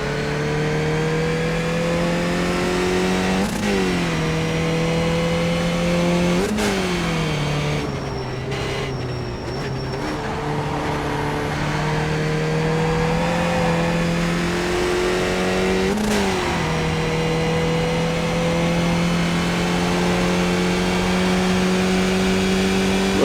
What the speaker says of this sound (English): I am in a Skip Barber, which is an open wheel racing car